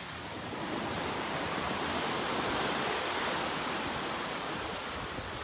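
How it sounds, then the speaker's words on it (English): Ocean waves crashing on the beach at Longboat Key, a loud continuous broadband roar of surf that swells slightly midway and fills the whole stretch without talk. "It's kind of loud here with the waves crashing in."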